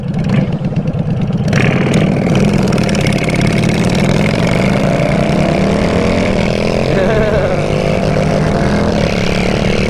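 Honda Shadow 750 bobber cruiser engine running loud and close, a steady throbbing drone with rising revs; no distinct backfire pops stand out, and a voice comes in briefly near the start.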